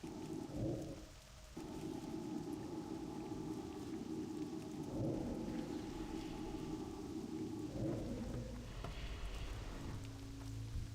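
Rain in World of Warcraft TBC Classic, a soft continuous patter with low rumbles of thunder rolling in at intervals beneath steady tonal game music, faint and even throughout.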